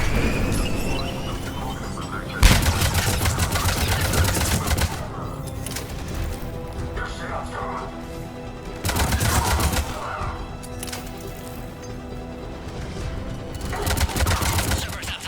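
Bursts of automatic gunfire during a firefight in the sci-fi shooter Mass Effect 3, rapid clattering volleys coming in several loud waves over a continuous battle din, with voices speaking underneath.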